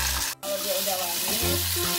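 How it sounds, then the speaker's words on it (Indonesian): Chili sauce paste sautéing in a hot pan, a loud, close sizzle with a brief break and some stirring scrapes. "ini kita tumis dulu sampai wangi"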